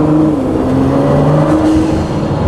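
A Ford GT with a titanium exhaust revs loudly and close, its engine note rising and falling in steady pulls with no voices over it.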